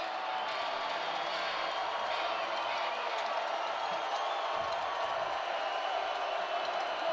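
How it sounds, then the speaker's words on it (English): The home crowd at an Idaho Vandals college football game against Utah Tech roars steadily behind the defense, a broad, sustained stadium din heard from a distance. "Vandal crowd trying to get behind their defense one more time"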